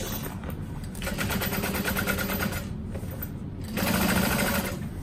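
A sewing machine back stitches at stitch length five while a barrel bag is being made, running in two steady mechanical bursts with a brief pause between them, close and clear with no talking.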